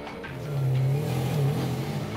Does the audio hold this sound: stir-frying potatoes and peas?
no